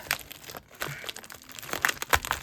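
Tough plastic packaging on a diamond art calendar is crinkled and torn open by hand in close, irregular bursts of crackling and crumpling, with no speech.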